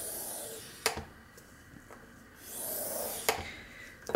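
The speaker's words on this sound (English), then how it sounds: "score it again at the 5 3/4" A paper page being scored for a flip book, heard as a few soft close scraping passes with two sharp ticks of the tool, quiet and without speech.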